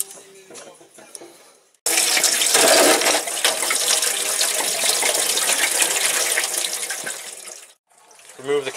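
Coolant pours from an unclamped Volkswagen radiator hose into a drain pan with a sudden, loud, continuous splashing gush that runs for several seconds and then stops, with faint handling noises before and after.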